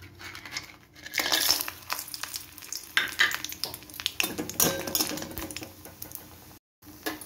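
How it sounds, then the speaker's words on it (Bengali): Lentil dumplings (bori) fry in a little hot oil in a wok, giving a steady close sizzle broken by scraping stirs and clinks of a utensil against the pan. "এবার আমি বড়িগুলো ভেজে নেব।"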